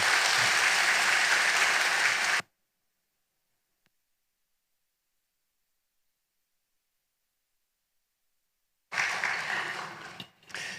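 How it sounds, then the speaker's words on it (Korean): A church congregation applauds in welcome of a visiting elderly guest pastor. Dense, loud clapping fills the first two seconds and cuts off into silence, then a second burst of applause returns near the end. "It's good to listen to the applause"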